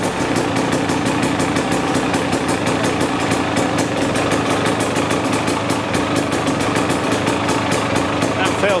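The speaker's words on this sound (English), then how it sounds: "I'll start the engine and then test the action of the clutch." A KTM motorcycle engine idles close by with a fast, even putter and a constant low rumble that holds steady throughout.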